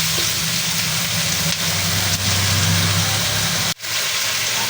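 Tomatoes sauté in a pan for ginataang gulay with string beans and kangkong, giving a loud, steady, close sizzle that runs throughout with a brief break near the end and no talking.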